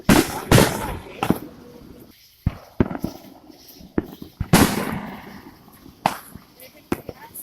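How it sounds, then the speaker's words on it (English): Fourth of July fireworks burst outdoors at night with repeated sharp cracks and booms, some loud and some distant, while people talk nearby. "We're also watching these fireworks."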